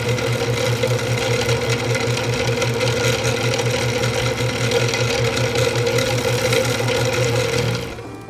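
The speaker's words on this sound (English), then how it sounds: "As we're spooling, I'm going to be taking the line guide and moving it back and forth at an even and steady pace" An SC125 Linewinder spools fishing line onto a conventional reel with a loud, steady mechanical whir that holds evenly for about eight seconds before winding down at the end.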